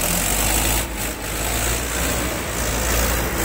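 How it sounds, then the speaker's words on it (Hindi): A JCB backhoe's diesel engine rumbles nearby as the machine pulls away, a steady, loud low drone with slight dips in intensity and no speech. "तो अब जीसीबी वाला जा रहा है"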